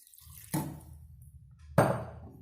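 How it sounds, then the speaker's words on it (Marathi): Water poured into a cooking pot while mixing a jaggery cake batter, heard as two short splashing pours separated by a pause, close and fairly quiet, with no one talking. "आपण आता ह्या भांड्यामध्ये थोडं पाणी टाकून"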